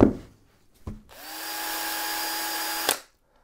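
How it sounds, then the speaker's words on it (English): A cordless electric drill driver gives a couple of sharp clicks, then spins up into a steady, close, high whine for about two seconds before cutting off abruptly. "This is a drill driver, cordless electric drill stroke screwdriver."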